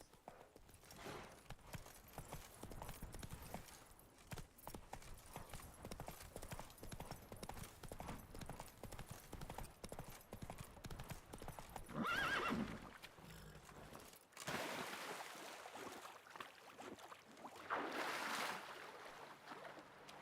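Hoofbeats of the horse Roach galloping in The Witcher 3, a fast steady clip-clop rhythm with game ambience and swells of louder noise around the middle and near the end.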